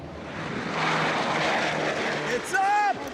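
A restored Boeing B-29 bomber takes off, its piston propeller engines roaring in a broad, steady drone as people shout excitedly over it near the end.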